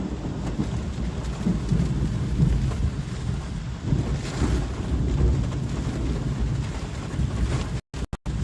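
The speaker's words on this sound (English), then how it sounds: "lightning just struck very close to my car" Thunder from a close lightning strike during an intense storm with heavy wind and rain near Route 1 in Chester, Virginia, a loud sustained rumble over constant rain and wind noise.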